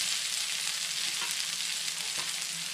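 Pearl spot fish (karimeen) frying in coconut oil in a pan, a steady close, loud sizzle with crackling that runs unbroken throughout, no voices.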